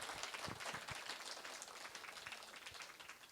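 An audience claps together at a youth fest gathering, a faint, dense patter of many hands that continues for a few seconds and slowly tapers off.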